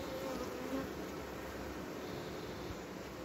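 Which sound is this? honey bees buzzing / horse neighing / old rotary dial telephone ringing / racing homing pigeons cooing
honey bees buzzing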